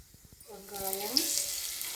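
Onion and cumin hitting hot oil in a pan, a soft sizzle that swells after a few faint clicks and then holds as a steady frying hiss, close and fairly quiet.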